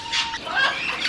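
Inside a museum, a bird gives a few short squawking calls over about a second, fairly close and loud against a faint room background.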